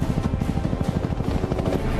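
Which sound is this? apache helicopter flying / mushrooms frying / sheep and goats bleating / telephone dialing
apache helicopter flying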